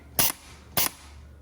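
An air cylinder piston on a gun test fixture for AK rifles and pistols strikes the firing pin on the breech block, giving two sharp, loud metallic snaps about half a second apart.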